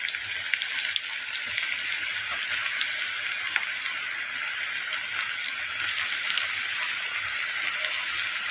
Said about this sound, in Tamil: இதே மாதிரி நம்ம கொஞ்சம் கொஞ்சமாக போட்டு பொரிக்க வேண்டியதான்.